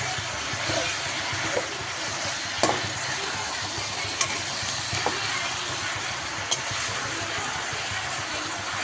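Tomato masala for a pea and potato curry sautés in oil, giving a continuous close sizzle and hiss with a few sharp clicks and pops rising out of it, and no talk over it.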